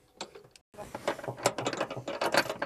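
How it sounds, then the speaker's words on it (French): Inside a Volkswagen Canterbury camper van conversion, a knob is unscrewed by hand, giving a close run of quick ratcheting clicks and plastic turning sounds after a brief silent gap. "Je viens de défaire la dernière molette"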